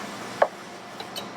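A knife chops through pineapple as it is cut into cubes, one crisp thud standing out and two fainter taps following in an otherwise quiet room.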